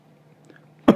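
A single short, forceful cough breaks out near the end, close and loud after a near-silent room with a faint low hum.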